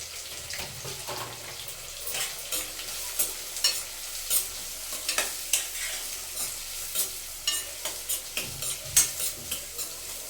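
Chopped onions and green chillies frying in a pan for egg rice, a continuous sizzle broken by repeated sharp scraping and stirring strokes that grow busier toward the end, close and clear.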